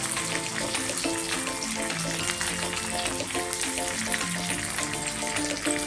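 Green chillies hit hot oil in a pan, setting off a steady, close crackling sizzle that keeps up evenly throughout with no voices.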